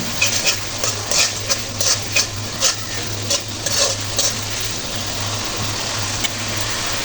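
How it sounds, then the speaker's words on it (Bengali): Spices and green chillies fry in a pan for a Bengali fish curry with bottle gourd, a steady close sizzle broken by a rapid run of scraping stirring strokes in the first seconds, then settling into an even hiss. "মশলাগুলো ভালো করে কষে নিতে হবে এরপর যোগ করে নেব কাঁচামরিচ"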